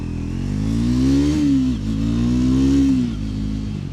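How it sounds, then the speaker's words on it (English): A 2024 Triumph Scrambler 400 X single-cylinder engine revs up loudly through two rising pulls with a brief dip between gear changes, heard close and clear without talk. "It's a really nice sounding motor."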